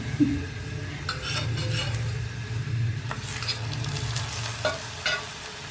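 Mooli paratha sizzling in oil on a hot griddle, a continuous frying crackle close by with occasional scrapes and light metallic clinks of a utensil.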